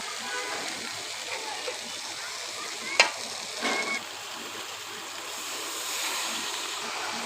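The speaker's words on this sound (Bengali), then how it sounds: "এখন আমি এটার মধ্যে পরিমাণ মতো একটু পানি দিয়ে দিব।" Water is poured into a fried masala curry in a pan, giving a steady hiss of sizzling and frying punctuated by a sharp clatter and a brief splashing burst midway.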